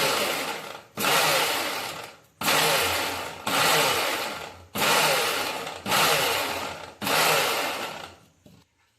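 A mixer grinder coarsely grinds peanuts, sesame seeds and poppy seeds in loud, close bursts, six or seven roughly one-second pulses separated by short gaps, the motor whining down after the last one.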